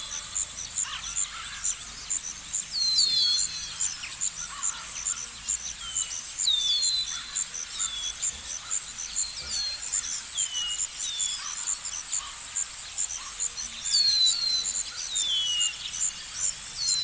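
Steady chirping insects form a dense high bed while assorted songbirds trill and whistle in short bursts on and off, a continuous outdoor nature ambience added in Lumion with no voices.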